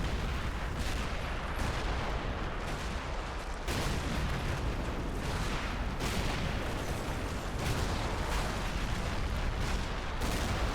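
A dense, continuous barrage of rockets from Calliope launchers roars in the Men of War video game, a loud wall of overlapping blasts and whooshes with periodic heavier surges.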